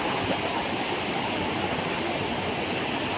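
Fast-flowing floodwater surging through the flooded Ratanpur area of Hailakandi in 2025, where buildings stand submerged; a steady, dense rushing roar that holds constant throughout with no voices.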